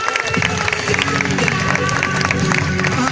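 An audience at a stunt motor show claps and cheers continuously, a dense, close wash of applause with crowd voices mixed in.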